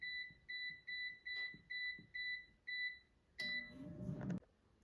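Air fryer control panel emitting a series of seven short, evenly spaced electronic beeps as temperature and time are set, followed by a brief clatter of handling near the end, with no talking.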